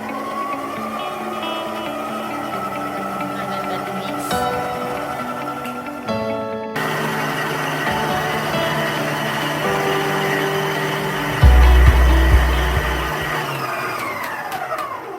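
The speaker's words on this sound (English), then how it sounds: "So I'm gonna start mixing this on slow." A stand mixer motor hums and whirs steadily on slow while mixing hot cross bun dough for a long stretch, with shifts in pitch and a few knocks and rattles near the end, close and fairly loud.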